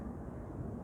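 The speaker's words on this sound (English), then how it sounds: "There's a plane flying right past me, and it's that close." An arriving airliner, already descending, flies low overhead with a steady, deep, rumbling roar that fills the whole moment, loud and close with no talk over it.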